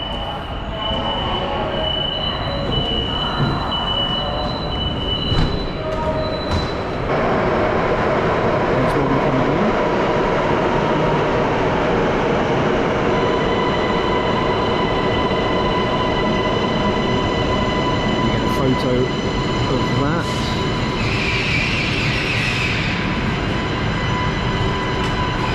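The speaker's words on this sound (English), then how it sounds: "As it said, that's a 4-carriage train." Four-carriage metro train on the Shanghai airport rail link at a platform, a steady loud rumble of wheels and motors with high squealing tones throughout, no talk.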